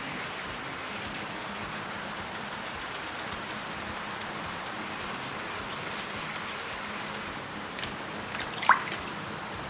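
Water drips and trickles steadily while a plastic car headlight is wet-sanded and rinsed, a soft continuous wash of liquid noise with one brief sharper drip near the end.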